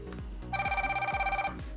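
An M16 Plus smartwatch rings for an incoming phone call, giving a bright electronic ring in rapid pulses for about a second amid low background hum.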